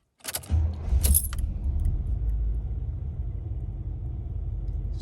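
Keys jingle, then a 1985 Chevrolet Caprice Classic with a newly replaced EGR valve cranks briefly and fires up on a warm start, settling into a low, steady, rumbling idle close by.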